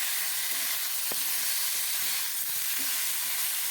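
Cumin paste and salt go into a frying fish curry, giving a steady, close-up sizzle and hiss that runs unbroken throughout, with one brief sharp tap near the start.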